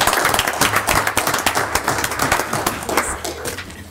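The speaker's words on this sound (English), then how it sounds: "How about a round of applause?" Audience applause at a county council meeting, dense clapping from a modest crowd, fairly close and steady for the whole stretch, with a low background murmur underneath.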